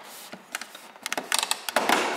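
Plastic clips of a Yamaha Nmax 125 scooter headlight snap into place, a cluster of sharp close clicks and creaks that grow denser toward the end.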